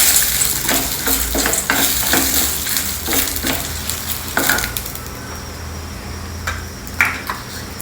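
Chana dal and dry red Guntur and Byadgi chilies frying in a pan, a soft sizzle under repeated scraping stirs and light metallic clinks of a spoon against the pan.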